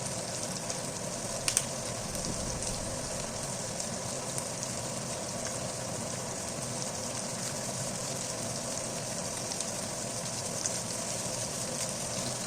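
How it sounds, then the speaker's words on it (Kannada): Fish fries in oil over a medium flame, producing a faint, steady sizzle and soft crackle throughout, with a couple of tiny pops. "ಅದನ್ನು ಈ ಥರ ಹೊಳಿಸಿ ಮತ್ತೊಂದು ಸೈಡನ್ನ ಫ್ರೈ ಮಾಡ್ಕೋಬೇಕು"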